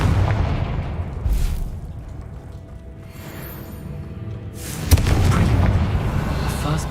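Fiery Confringo spell explosions in a Harry Potter video game, a loud booming blast with rumbling debris, easing off, then a second sharp burst that roars on.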